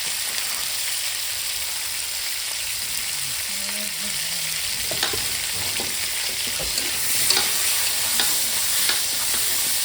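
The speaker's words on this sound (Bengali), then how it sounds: "আলুটা ভেজে নেওয়ার জন্য অল্প পরিমাণে লবণ আর দেবো অল্প পরিমাণে হলুদ।" Potatoes fry in a pan with salt and turmeric, giving a steady, close sizzle and crackle that runs without a break and without talk.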